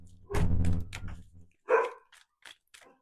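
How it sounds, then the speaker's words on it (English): A dog barking at a neighbouring dog, heard indoors: a burst of several sharp barks, then a single louder bark and a few fainter yips trailing off, each separated by brief silences. "She is barking at next door's dog."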